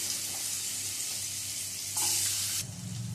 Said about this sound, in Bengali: প্রথমেই দিয়ে দিচ্ছি আলুর টুকরোগুলো।